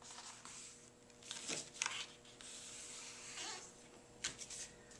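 A plain paper file folder is folded with both sides brought to the middle, giving faint papery rustles and a few brief creasing swipes, quiet and close with no talk.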